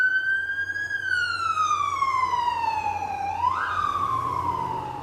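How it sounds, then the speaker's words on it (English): An ambulance siren wails, sweeping slowly down in pitch, then jumps up and glides down again, loud and steady with distant traffic rumble beneath on a Vancouver street. "It's an ambulance."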